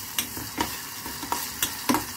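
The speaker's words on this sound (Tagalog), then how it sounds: "Ginigisa po muna namin ang garlic bago po namin ilagay sa pork." Chopped garlic sautéing in hot cooking oil while being stirred, a steady soft sizzle broken by several scraping stir strokes at irregular intervals, close and moderately quiet with no talking.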